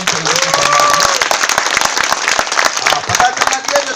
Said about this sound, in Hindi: जोरदार तालियां बजाए साहब